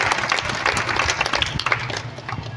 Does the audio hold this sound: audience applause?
yes